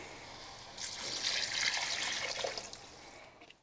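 Supermarket beef stock, made from powder mixed with hot water, pours steadily into a casserole pot, giving a continuous close splashing trickle that builds and then tapers off after about three seconds.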